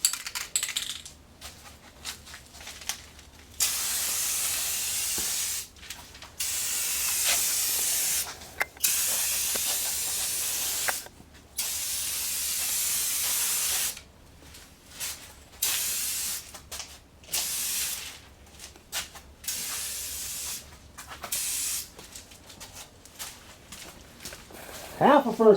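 Bursts of aerosol spray paint hiss repeatedly indoors as car parts are coated, each spray lasting a second or two with quiet gaps and small clicks between, no talking over it.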